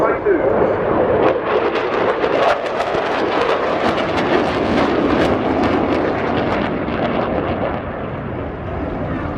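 Austrian Air Force Eurofighter Typhoon fighter jets flying in, a loud sustained roar of jet engines filling the whole stretch with steady rumbling intensity and slight fading toward the end.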